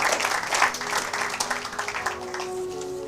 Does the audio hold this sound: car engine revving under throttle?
no